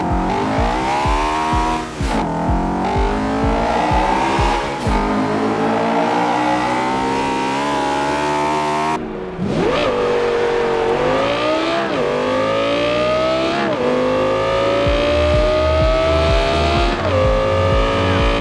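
Racing car engines in a Forza Horizon 2 video game rev and roar loudly, pitch climbing and dropping through gear shifts, with brief tire squeals and no talking.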